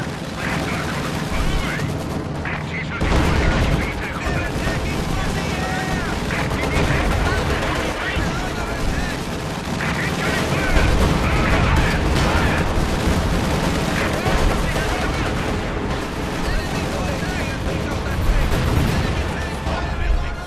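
Machine gun fire in Company of Heroes 2 rattles in sustained bursts amid booming explosions and other gunfire, loud and dense for the whole stretch, with shouted battle voices mixed in.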